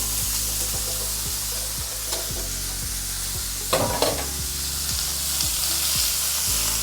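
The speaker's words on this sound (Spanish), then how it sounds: "vamos a sellar una mirepoix" Mirepoix sears in the rendered fat left from browning meat in a frying pan, a steady close hiss with a regular scraping stir every half second or so and a brief clatter near the middle; no one speaks.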